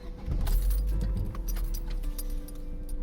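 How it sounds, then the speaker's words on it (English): A car being started with the key: a jangle of keys followed by the engine catching and running steadily, close and fairly loud throughout. "I'm going to turn on the car."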